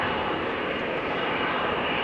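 Boeing 787 Dreamliner jet engines spool up at Amsterdam Schiphol Airport, heard as a steady, broad, fairly distant roar that holds at an even level throughout, with no voices over it.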